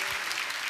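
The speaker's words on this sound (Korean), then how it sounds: "우리 박수하고 우리 격려하고 축복하겠습니다" A standing church congregation applauds a popera singing team after a special hymn, with a brief burst of full, dense clapping throughout.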